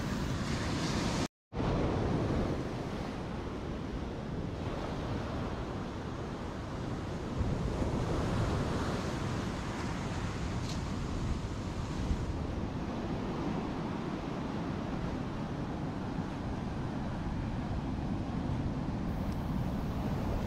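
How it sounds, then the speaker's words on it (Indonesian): Gentle ocean waves wash steadily onto the quiet Nampu beach, a continuous soft roar of surf mixed with wind buffeting the microphone. "Ombak di pantai ini juga terlihat tidak begitu besar"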